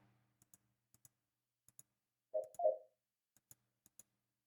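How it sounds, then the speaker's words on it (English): Soft, sparse clicks and ticks of text-message typing in a dating video game, spaced irregularly in near silence, with a brief louder two-part chime or blip in the middle. "Hesitantly, I begin typing back."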